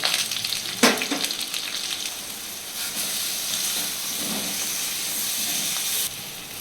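Turmeric, cumin and coriander powder fry in hot oil, giving a close, steady sizzle and hiss with a sharp burst near the start, a few stirring sounds, and a drop in level near the end.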